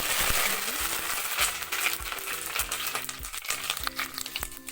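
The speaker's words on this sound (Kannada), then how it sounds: "ಸಾಸಿವೆ ಹಾಕ್ತೀನಿ ಈಗ ಸಾಸಿವೆ ಚಂದ ಸಿಡಿತಾ ಇದೆ" About three teaspoons of mustard seeds crackle and pop in hot oil, tempering for a Karnataka-style jackfruit pickle: a dense, continuous sizzle with sharp, irregular pops throughout.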